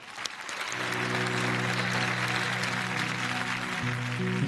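Steady applause from a studio audience on a Marathi music show, a dense wash of clapping that swells in over the first second and holds evenly, with a faint low instrumental drone beneath.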